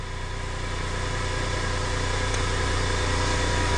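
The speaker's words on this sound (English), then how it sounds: "It's our short time, high RPM dry cycle that will mechanically sling the majority of the water off of the substrates." Machinery spinning substrates at high RPM during a dry cycle, giving a steady, loud, continuous mechanical whir and hum with vibration and no pauses, and no voices.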